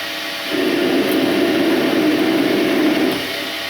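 A metal lathe cuts steel at 7 thou per revolution under an electronic leadscrew feed, throwing golden chips; a steady, loud machining whine rises for about two and a half seconds over the constant motor hum, then drops back.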